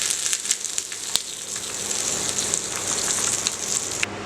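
Curry leaves hiss and crackle in hot oil for a tempering meant for raw mango and moong dal chutney, a steady close sizzle with a few sharp pops, no talking over it.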